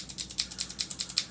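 A mechanical keyboard's blue (clicky) switch is pressed repeatedly in a steady rhythm, giving about a dozen crisp, close, sharp clicks with nothing else in the background.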